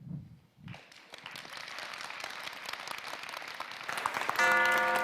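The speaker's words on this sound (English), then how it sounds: "Round of applause of Anton Chulakov" Audience applause following a lightning talk at a developer conference, a dense clapping that builds steadily and grows louder toward the end.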